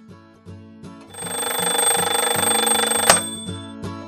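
A cartoon alarm clock rings loudly with a rapid metallic bell trill for about two seconds, framed by soft rhythmic ticking before and after, with one sharp clang near the end.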